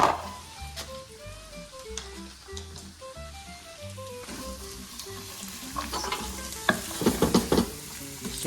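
Garlic, celery and carrots cooking in a pan, a soft sizzle under background music, with louder stirring scrapes and clatter toward the end.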